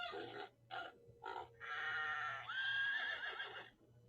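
A horse whinnies among other farm animal calls played together, a few short bleating bursts followed by a longer, high wavering neigh, faint and clear over a quiet background.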